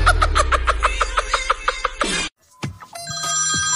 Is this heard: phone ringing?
yes